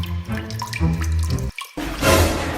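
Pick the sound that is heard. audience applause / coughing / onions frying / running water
running water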